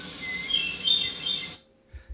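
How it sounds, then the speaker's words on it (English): Recorded bird song played back from a website: a bright, whistled phrase of a few quick notes, fairly faint, that cuts off abruptly into silence. "This is just a website I found where this person is compiling bird songs."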